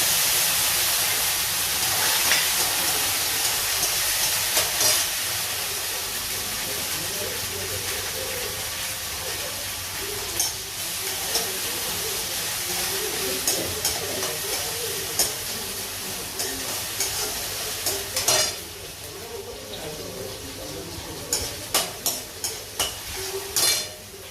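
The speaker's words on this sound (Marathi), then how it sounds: "टोमॅटो कडीपत्ता हिरवी मिरची वाटाणा बटाटा हे सगळं टाकून घेतात" Tomato, curry leaves, green chilli, peas and potato frying and being stirred in a pan for potato poha: a steady sizzling hiss with scattered metallic clinks and scrapes of a spoon against the pan, louder toward the end.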